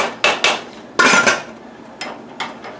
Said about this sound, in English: So I like to come in here and stir it every now and then.